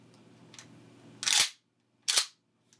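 Shotgun action released forward by its bolt-release button to chamber a new shell: two sharp, close metallic clacks about a second apart, with faint clicks before and after, no talk.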